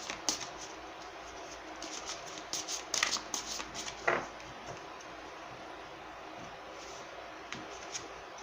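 A tarot deck being shuffled by hand ahead of drawing a Major Arcana card: soft, close riffles and taps coming in short bursts, quiet overall, with no speech.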